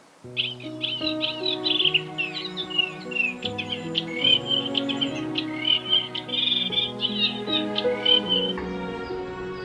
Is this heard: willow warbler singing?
yes